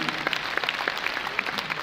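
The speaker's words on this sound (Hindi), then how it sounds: "एक बार जोरदार तालियां वीरेंद्र जी के लिए हो रहा है।" An audience claps enthusiastically at a gathering, a dense, steady wash of many hands applauding for about two seconds without speech.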